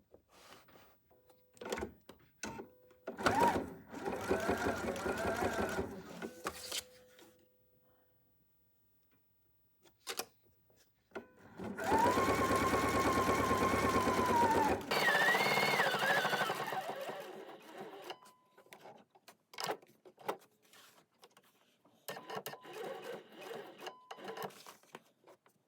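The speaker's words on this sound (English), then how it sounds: "on the corners you sew exactly here on this line" A sewing machine stitches the corners of a fabric zipper pouch in three runs of steady, fast whirring, separated by quiet pauses with scattered clicks and handling sounds.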